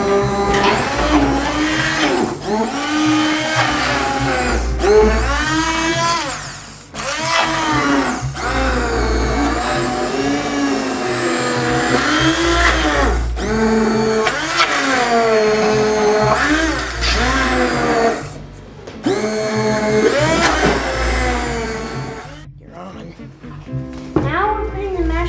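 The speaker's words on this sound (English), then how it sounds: "we're going to use this immersion blender" An immersion blender whirs loudly while mashing potatoes for cream cheese mashed potatoes, a steady motor whine that rises and dips in bursts as people talk over it in a kitchen.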